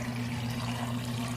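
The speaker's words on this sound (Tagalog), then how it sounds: "Ngayon naman, maglalagay na tayo dito ng tubig." Water pours steadily into a pan of fried chicken feet, a continuous soft splashing over a low background hum.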